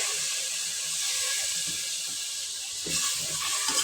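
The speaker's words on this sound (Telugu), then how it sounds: "మసాలాలు వేసిన తర్వాత one two table spoon water పోసుకోండి" Water is poured onto spices frying in a pan for vegetable pulao, giving a steady, loud hiss and sputter that runs the whole time with no voices.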